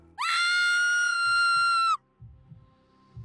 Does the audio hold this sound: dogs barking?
no